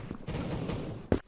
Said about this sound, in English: I see a red health bar and also hear some gunshots